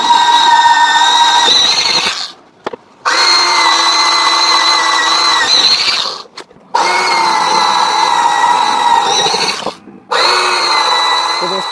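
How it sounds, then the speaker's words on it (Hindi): Electric drill machine boring holes into a plywood board for a three-phase electrical panel, a loud steady whine in three long bursts separated by short pauses. "तो इस ड्रिल मशीन की मदद से दोस्तों इसमें हम फटाफट छेद कर लेते हैं"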